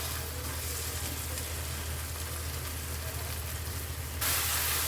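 Whole spice masala frying in a pan for a white pea curry, a steady close sizzle holding for several seconds, turning brighter and hissier near the end.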